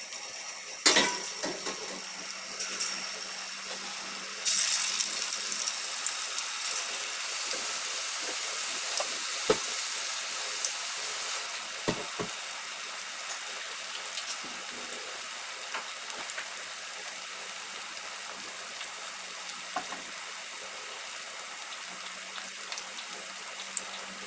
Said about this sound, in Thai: หลังจากน้ำมันเราเริ่มเดือดได้ที่แล้วนะคะเราก็มาทำการใส่หมูที่เราหมัก